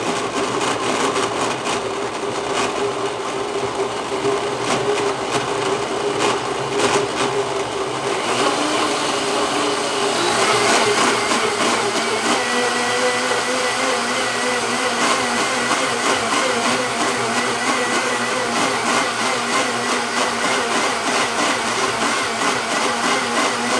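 A blender loudly pureeing raw apples, a sustained motor whir and churn running continuously close by with its pitch shifting slightly partway through.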